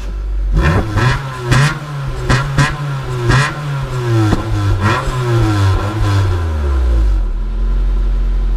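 A Honda Civic ESI engine revs repeatedly in short, loud bursts, each throttle blip climbing and falling in pitch before settling back to a rough idle, close by with no one talking.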